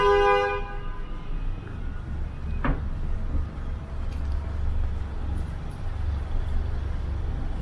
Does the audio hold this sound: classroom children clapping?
no